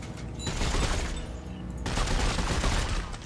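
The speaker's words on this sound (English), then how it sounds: "It's some 3-burst gun that I just do not want" Three-round burst gunfire from a weapon in the sci-fi horror game Dead Space 3, loud and dense, with rapid shots merging into a sustained roar and a brief lull midway before the firing swells again.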